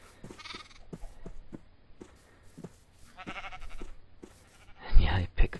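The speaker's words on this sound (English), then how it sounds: "Come here, sheep. I got some nice wheat for you." Sheep in a video game bleat several times in short, separate calls, mixed with game sounds and a louder burst near the end, while someone talks over them.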